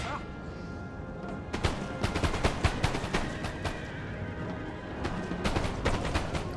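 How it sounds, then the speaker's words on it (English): Artillery firing canister shot in Napoleon Total War, a British campaign battle with a series of sharp, cracking volleys in uneven clusters over a constant battlefield rumble. "Artillery. Right, switch to canister shot."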